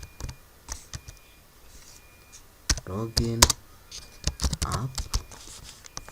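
Quick bursts of clicking on a computer keyboard, close and crisp, interleaved with someone speaking.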